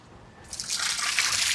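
Water gushes from a deep-well tap, starting after a brief quiet moment and then running steadily and fairly loud as an unbroken splashing stream.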